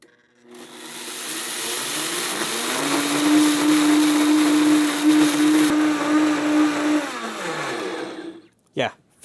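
A countertop blender grinds dry rice into flour, a loud steady whirring motor with a sustained pitched whine that holds for several seconds before cutting off abruptly.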